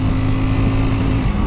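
A QJ SRC 500 motorcycle engine holds a loud, steady high-rev drone near its redline while riding, a continuous buzzing tone heard up close for a brief moment.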